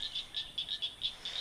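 Frogs croak outdoors in a steady, rapid series of short, high calls, about eight pulses in under two seconds, fairly faint and unbroken by talk.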